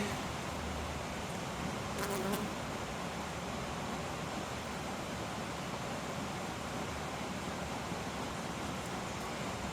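Agitated honeybees fill the air during a hive inspection with a dense, steady buzzing that stays up close and constant throughout, with no voices over it.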